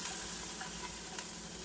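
Ginger sizzles in a hot pan as aromatics for a creamy squash, tomato and lentil soup, making a faint, even hiss with a few light stirring ticks.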